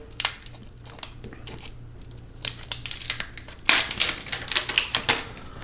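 Protective plastic film peels off the box of a Samsung Galaxy Z Flip 3, with close crinkling and crackling in short bursts that grow to a louder sustained rip near the end.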